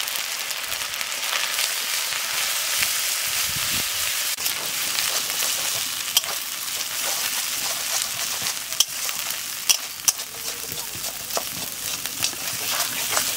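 Garlic paste frying in hot oil for a mutton curry, a steady, fairly loud hiss and crackle with occasional sharper pops and faint stirring scrapes, no talk.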